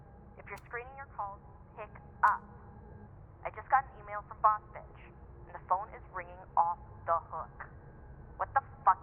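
A phone rings in the video game Life Is Strange: Double Exposure, giving repeated short tonal chirps in clusters at moderate volume, over a low background hum.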